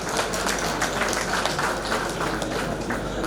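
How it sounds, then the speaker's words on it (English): Audience applause for dignitaries at an AIPNBOA bank officers' gathering in Murshidabad, heard as a steady, dense wash of hand clapping from a crowd that fills the whole stretch without pause. "we like to appreciate with a huge round of applause"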